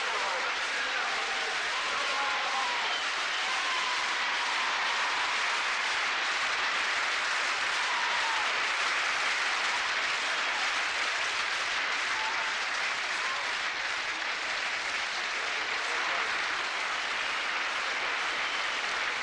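A stadium crowd of 16,000 at a British athletics meet applauds runner Zola Budd during a 2000 metres race, a dense, steady roar of clapping that holds at full strength for the whole stretch.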